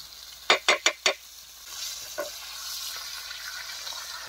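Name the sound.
fish being fried crisp in a pan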